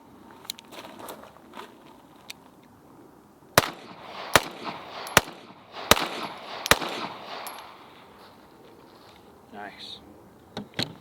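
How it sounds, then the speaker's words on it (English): Pistols with ported barrels firing Winchester 124-grain ammunition, a run of sharp, loud, widely spaced shots in the middle with a few fainter pops around them and people talking nearby. "All right, John, so all 124 Winchesters through all three guns side by side."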